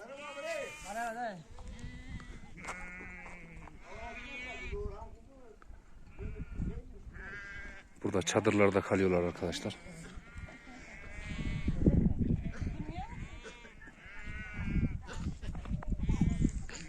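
Sheep bleat repeatedly, several animals calling near and far, while a person talks over them outdoors at a highland camp in the Keşiş Mountains, with donkeys grazing nearby.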